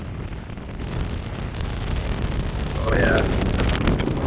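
Strong gusts of wind during a severe storm with 50 to 60 mph winds, a loud roaring rush buffeting the microphone that builds toward the end, with a voice speaking briefly over it.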